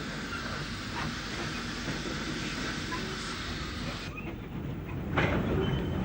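Old London and North Western Railway tank locomotives, a class dating from the 1870s, shunting at Wolverton Works, with a steady rumble of wheels and hiss of steam throughout and a louder burst near the end.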